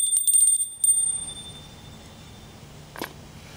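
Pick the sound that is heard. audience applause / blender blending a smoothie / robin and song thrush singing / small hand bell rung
small hand bell rung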